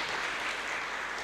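Congregation applauding at a church sermon, a steady wash of clapping heard at a moderate distance, brief and unbroken with no talk over it.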